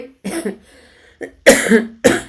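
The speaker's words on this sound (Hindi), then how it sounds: "थोड़ी कोल्ड का असर है तो खांसी भी बीच बीच में आ जा रही है" A person coughs several times in separate bursts, the later coughs louder and harsher, with short pauses between them.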